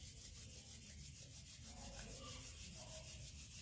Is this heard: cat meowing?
no